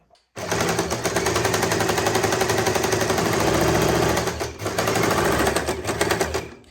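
A sewing machine runs in one long continuous burst of rapid, loud stitching, sewing all the way around the edge of a churidar. It pauses briefly once before carrying on, with no voices.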